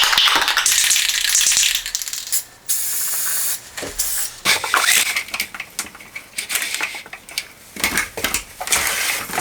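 An aerosol spray can of clear coat hisses loudly in long bursts, broken by short pauses and a few clicks of the nozzle, close up with no talk.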